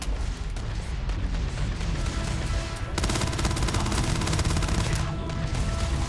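Gunfire in the video game Starfield: a dense, loud, continuous barrage of overlapping shots and blasts that never lets up, with a heavier stretch partway through and no talking.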